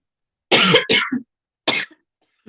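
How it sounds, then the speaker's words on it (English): A few sharp, close coughs in quick succession, then a short pause and one more cough, with silence between bursts. "that was a cough that tickled in my throat."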